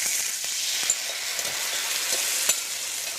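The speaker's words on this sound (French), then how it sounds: "Retournez le magret et retirez le gras. Puis baissez le feu à feu très doux et laissez cuire 7 à 8 minutes" Duck breast sizzles in a pan over very low heat, a steady soft frying hiss with faint crackles and pops throughout, no voices.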